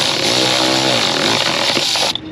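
A power tool, likely an impact driver, drives a screw in an auto repair shop, whirring loud and steady at close range for about two seconds before cutting off abruptly.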